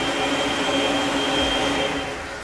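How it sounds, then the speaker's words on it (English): A workshop dust collection vacuum system runs at full power with a loud, steady roaring whoosh and a constant whine, easing slightly toward the end; no one speaks. "as soon as I turn the vacuum on, so I'll throw this switch over here"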